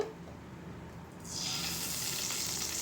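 Ghee goes into a heated pan for carrot zarda: a quiet room tone suddenly gives way to a steady, fairly loud sizzle that continues to the end.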